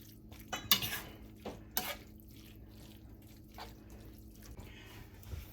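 A tamale pie mixture is stirred in a pan: a spoon scrapes and clinks against the metal in a few sharp knocks, between soft wet scraping sounds, close and moderately quiet.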